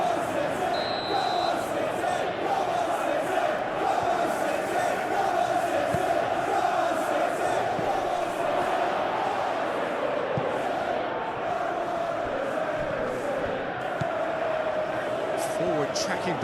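A football stadium crowd roars at a Premier League match, a continuous loud wash of massed voices throughout, with a match commentator's voice faintly underneath.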